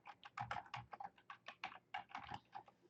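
Quick, irregular keystrokes on a computer keyboard, a close and fairly quiet clatter of taps arriving in short bursts, heard alone with no talk.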